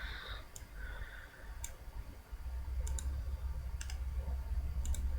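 Playing cards shuffled into an encounter deck during a tabletop card game give a few sharp, sparse clicks and ticks spaced over a few seconds above a low steady room hum, with no talking.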